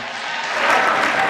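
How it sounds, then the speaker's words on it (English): Democrats in an audience applauding, a steady wash of clapping that swells slightly louder over about a second, with no speech over it. "you're hearing the applause from the Democrats"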